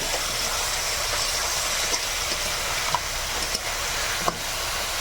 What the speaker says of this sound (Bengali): এবারে কাঁকড়াটা দিয়ে দিচ্ছি